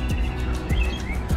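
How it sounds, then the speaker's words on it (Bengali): Morning birds chirp in short, bright calls scattered across a steady low hum of distant traffic, heard while passing along a park beside a road. "পাখির কিচিমিচি শব্দ,"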